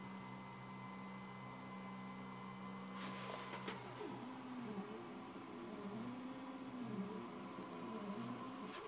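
A DIY laser engraver works a design into wood, giving a faint, steady electrical hum with a higher whine, then soft repeating motor sweeps as the head moves back and forth.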